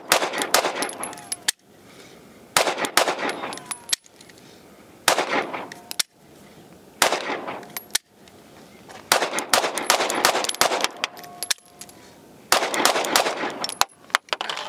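A Sig P365 Fuse pistol fires in a series of loud, sharp shots grouped in quick bursts with short pauses between them, close and dominant throughout.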